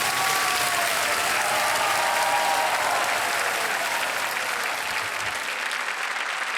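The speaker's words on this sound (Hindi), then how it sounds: "तालियां बजती रहे जोर से।" A studio audience on a televised quiz show claps loudly and continuously, a dense wash of applause that fills the room and fades slightly toward the end.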